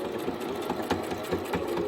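A Brother sewing machine runs steadily while back stitching on a tote bag, giving a continuous fast mechanical whir with faint rhythmic needle clicks and no speech.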